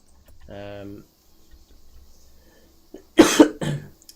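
A short voiced sound, a pause, then two or three harsh, close coughs in quick succession near the end, from someone ill with a lingering cough.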